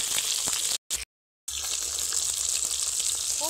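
Fish fries in hot oil with a steady hissing sizzle, close and even, interrupted by a short silent gap before the frying continues.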